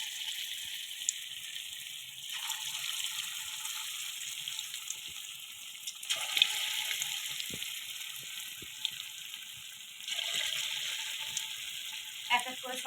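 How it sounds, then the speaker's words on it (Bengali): Raw banana fritters fry in hot oil, a continuous bright sizzle that swells each time a new piece goes in, with occasional clinks of stirring and no talk. "তেলটা গরম হয়ে গেলে বড়াগুলো এক করে ভেজে নেবো"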